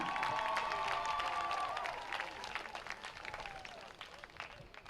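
A crowd at a high school football game applauds and cheers for a senior cheerleader, a dense clapping wash with a few whistles that fades gradually.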